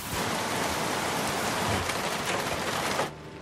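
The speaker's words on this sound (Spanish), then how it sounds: "La lluvia fue tan intensa que muchos caminos se cerraron." Intense rain from a hurricane pours down in a dense, loud, continuous roar of drops, then drops off abruptly near the end.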